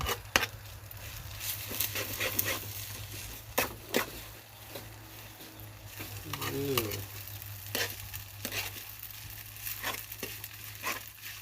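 Glass noodles stir-fried with egg and bean sprouts in a pan, with steady sizzling and repeated scraping stir strokes throughout, close and moderately loud, with no talking.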